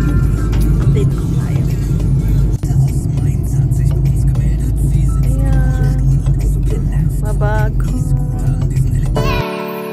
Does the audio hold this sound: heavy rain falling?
no